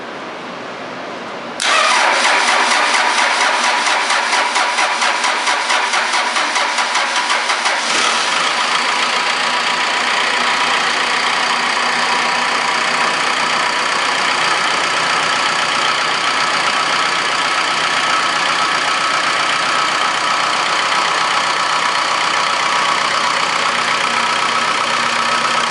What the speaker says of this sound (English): I'm going to have Pat start the motor.